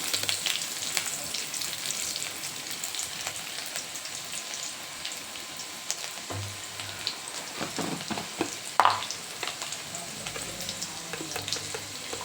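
Green chillies fry in hot oil with a continuous crackling sizzle, close by, with occasional louder pops and stirring scrapes.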